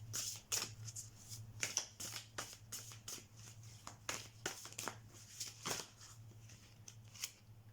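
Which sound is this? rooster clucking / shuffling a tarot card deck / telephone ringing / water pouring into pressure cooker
shuffling a tarot card deck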